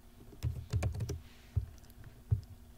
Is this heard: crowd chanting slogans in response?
no